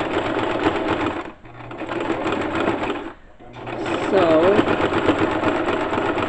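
A domestic sewing machine stitches fabric for ladies' panties in quick rhythmic bursts, pausing briefly between runs and reversing for a short backstitch, close and clear, with a soft voice speaking over it.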